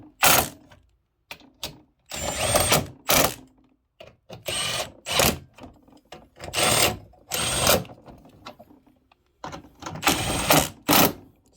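A Milwaukee power tool tightens bumper bolts on a 1996 Mitsubishi Mirage Asti ZR, firing in about eight loud, close bursts of whirring and rattling, separated by short silences, with no talking.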